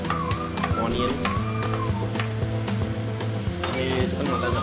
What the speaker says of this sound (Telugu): ఆనియన్ అయితే వేసేసుకున్నాం మనం ఇప్పుడు.